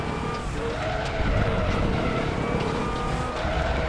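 A GT4 race car in the RaceRoom sim racing game on its final lap: a loud, steady engine roar with tire squeal and skidding running throughout, growing slightly fuller after the first second.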